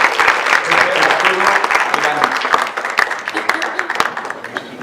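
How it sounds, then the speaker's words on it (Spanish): Lecture-hall audience at a conference on fatty acids and metabolic diet applauds a doctor, steady clapping from a sizeable crowd that gradually thins toward the end, with some voices mixed in. "Un aplauso para el doctor."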